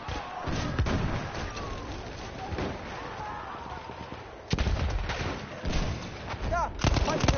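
Battlefield 1 gameplay with heavy booms and gunfire in rapid bursts, a sharp blast midway followed by repeated loud reports, while a voice speaks over the fighting.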